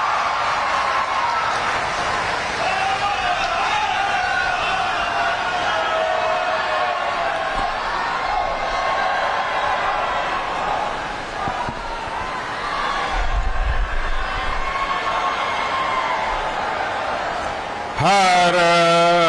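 Audience applause welcoming Prime Minister Narendra Modi at an event in Kashi, a broad, steady wash of clapping from a large crowd that holds for most of the stretch, with a voice over a microphone at the end.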